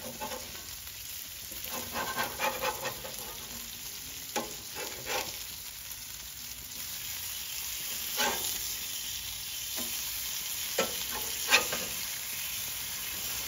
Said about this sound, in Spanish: tienes que raspar ese sartén